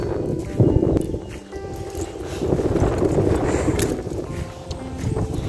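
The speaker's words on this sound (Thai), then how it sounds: "อุ้ยลมพัด" Cool wind blows steadily outdoors near a river, a constant rushing roar that buffets the microphone for several seconds, with no voices.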